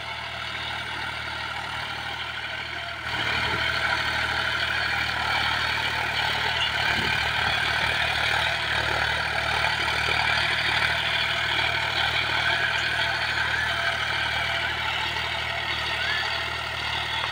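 A John Deere 5105 tractor engine idles and chugs steadily while ploughing, a continuous low mechanical rumble with no talking.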